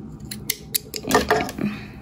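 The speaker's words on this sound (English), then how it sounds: "take your scissors" Scissors snipping through crochet yarn, a few quick close metallic clicks and snips in a quiet room, no talking.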